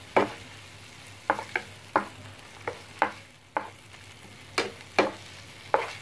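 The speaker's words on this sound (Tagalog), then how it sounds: "Halo po natin hanggang sa lumambot po ang kamatis." Tomatoes for ampalaya con carne are stirred in a frying pan, a soft sizzle under about a dozen sharp, evenly spaced scrapes of a utensil against the pan.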